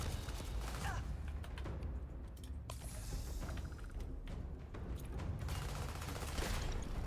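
Gunfire from shooting enemies in Starfield, a sci-fi video game, with steady bursts of shots and clattering action sounds filling the mix continuously throughout.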